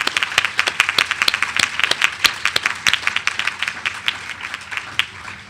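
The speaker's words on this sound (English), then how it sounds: "Can we give a round of applause for everybody who has their hands up right now?" A conference audience applauds people raising their hands. Dense, steady clapping from many hands continues throughout, loud and close.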